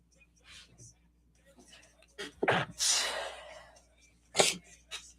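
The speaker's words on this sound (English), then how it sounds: "oh gosh, I gotta sneeze" A single loud sneeze with a sharp gasping intake and burst, followed by breathy noises and another short sharp exhale, close to the mic.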